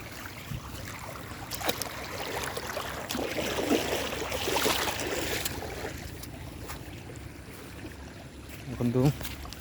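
Rainwater flowing steadily in rainy weather, a continuous broad rushing wash that swells in the middle, with a voice talking briefly near the end.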